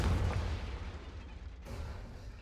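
The Confringo explosive spell in the video game Hogwarts Legacy goes off with a deep, booming blast that rumbles and fades, followed by a sharper crack near the end.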